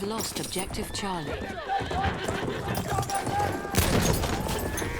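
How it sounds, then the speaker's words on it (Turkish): Horse whinnying and galloping hooves in the video game Battlefield 1, amid gunfire and battlefield noise, with voices talking over it. "Belliydi o atın bana geleceği"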